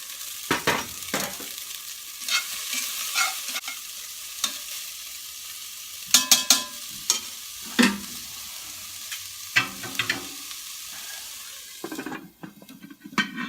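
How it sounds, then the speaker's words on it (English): Food fries and sizzles in a cast iron camp oven over an outdoor fire, with a steady hiss broken by scraping stirs and clinks of a utensil against the pot, heard close up and without talk. "I'm just going to fry that off and then I'll chuck the rest of it in there on a high."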